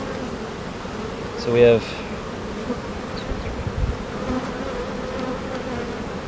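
Honeybees buzz steadily around an open hive on a beekeeping farm, a low continuous hum with one louder, closer pass of a bee near the microphone; a voice speaks briefly.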